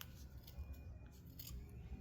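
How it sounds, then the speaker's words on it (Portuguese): Scissors snipping through a crochet keychain cord, with short, close, crisp cuts at an uneven rhythm over a quiet background. "eu venho aqui com a tesoura"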